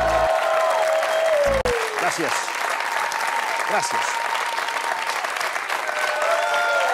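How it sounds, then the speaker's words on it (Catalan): Loud, sustained studio audience applause for a magician fills the whole stretch, with a voice briefly saying thanks over the clapping. "Un gran aplaudiment"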